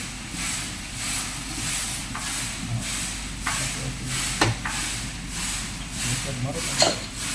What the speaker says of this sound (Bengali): ভাজার প্রক্রিয়া এভাবেই তৈরি করা হচ্ছে ঘরোয়া পরিবেশে।